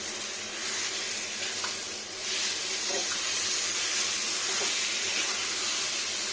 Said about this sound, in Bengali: এবার ফ্রাই করে নিচ্ছি।